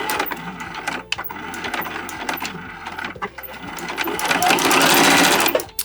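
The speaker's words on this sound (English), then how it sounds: "I'm going to be sewing the opening closed with about 1/8 of an inch seam allowance." A sewing machine stitches the opening of a small fabric pouch lining closed with a narrow seam, its steady mechanical whir running for several seconds with brief pauses and a louder burst near the end.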